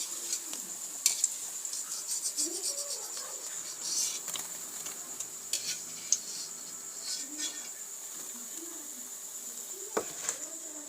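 Palm fritters (taler bora) are lifted from hot frying oil. Light scattered clinks of a utensil sound against a soft continuous sizzle, with faint chirping in the background.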